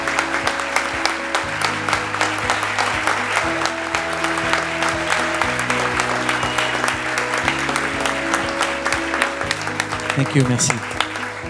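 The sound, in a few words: audience applause for jury prize winner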